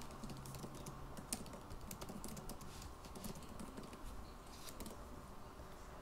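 Quiet, rapid tapping of a computer keyboard as a quiz name is typed, a steady run of light key clicks over low room hum, with no talking.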